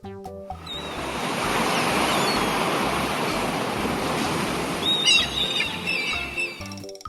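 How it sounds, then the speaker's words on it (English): Sea waves washing ashore in a steady swelling rush, with wind over the microphone and a few birds calling near the end, no talk. "Sea."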